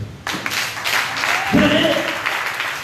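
A church congregation claps and cheers in a loud, dense burst of applause that swells and carries on, with voices calling out over the clapping.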